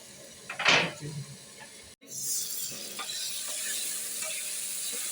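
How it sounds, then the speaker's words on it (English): Onions cooking in a covered pot for a cow leg recipe: a clatter as the lid goes on, then a soft, steady sizzle from under the lid. "So I will cover to let my onions cook."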